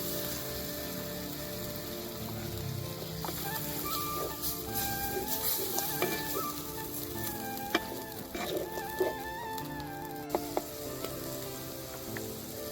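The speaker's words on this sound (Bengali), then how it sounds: "এবার আমি এই যে পেস্টটা বানিয়ে রেখেছিলাম এটা দিয়ে দেব।" Spice paste sizzles and fries steadily in hot oil for a prawn curry, with light stirring and scraping clatter, a continuous close crackle with no talking.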